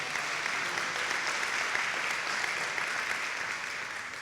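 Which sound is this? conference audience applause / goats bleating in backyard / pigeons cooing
conference audience applause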